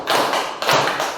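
Two broad claps from a classroom clapping game, loud and close, evenly spaced with a brief hush between them and no voices.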